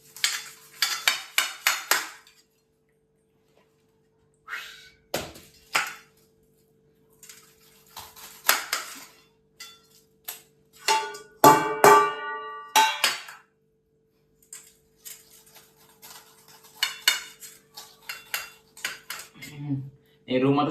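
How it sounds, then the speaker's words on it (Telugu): A pineapple being cut with a knife among dishes, giving short bursts of clattering, clinking and scraping against plates and utensils separated by quiet pauses. "చలో ఇప్పుడు పైనాపిల్ అయితే కట్ చేసుకోము."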